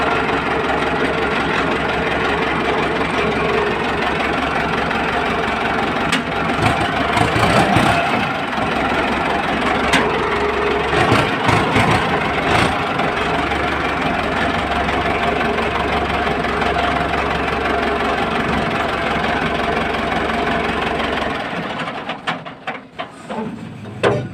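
A farm tractor's diesel engine drones steadily and loudly up close while the tractor is driven, with rattling bursts and surges in the middle stretch, before the engine sound drops away near the end.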